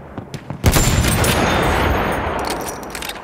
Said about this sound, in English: Look out! Machine gun!